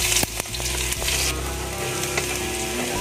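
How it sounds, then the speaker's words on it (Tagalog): Garlic sautéing in hot oil in a pan for ginataang kalabasa, a loud, steady close sizzle with a few stirring scrapes and no voices. "Gisa na natin yung bawang natin"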